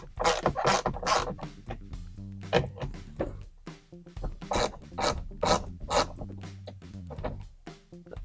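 Metal tools work bolts loose during a windshield wiper installation on an off-road vehicle with a Bent Metal glass windshield, giving repeated close rasping, scraping and ratcheting strokes in uneven bursts with brief pauses.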